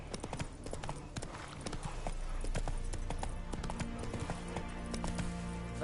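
In the Witcher 3 video game, the horse Roach gallops, hooves clopping in a fast, continuous rhythm over a dense game soundscape.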